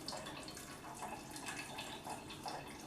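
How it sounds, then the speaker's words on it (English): Tap water runs steadily into a cooking pot to cover rinsed rice in a home kitchen, a continuous close splashing hiss with no talk over it. "I'm putting in the water for the rice"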